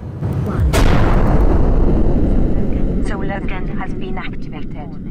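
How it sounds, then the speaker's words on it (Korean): A space station explodes in a film: a huge, loud blast with a sharp crack, then a long roaring rumble, with a voice talking over the later part. "그렇게 우주 정거장은 폭발을 하게 됩니다."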